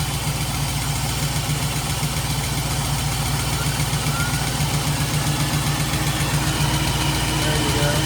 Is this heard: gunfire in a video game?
no